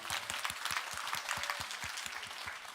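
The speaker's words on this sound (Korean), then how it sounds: "박수 부탁드립니다." Audience applause at a Korean Atomy promotion ceremony, with a fairly quiet crowd clapping and a few hands beating out a distinct, rapid, even rhythm for a few seconds.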